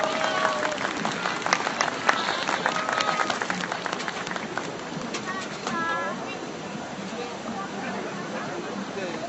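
A rally crowd at a Wednesday demonstration about the comfort women agreement gives warm applause, with dense clapping and scattered calls at first that thin into a murmuring crowd and a few bird-like chirps.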